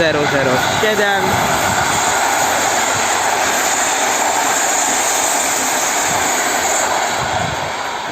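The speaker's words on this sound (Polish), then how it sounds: "Nadjeżdża Griffin EU 160" A Griffin EU160 electric locomotive draws in with the Podlasiak passenger train near Warszawa Zachodnia, producing a loud, steady roar that holds close throughout and eases slightly at the very end.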